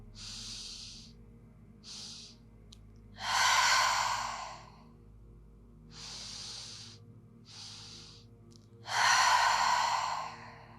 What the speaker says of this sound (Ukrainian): І видих через рот.